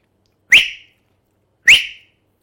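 Two short rising whistles, each about a third of a second, separated by a pause of just over a second, clear and close with silence around them.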